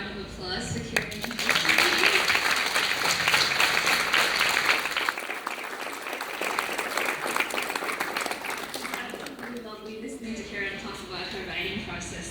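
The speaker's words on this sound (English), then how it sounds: "can we have another round of applause for Kiran?" An audience at a literary festival applauds for author Kiran Millwood Hargrave, a sustained round of dense clapping lasting several seconds before tapering off, with some voices and room noise mixed in.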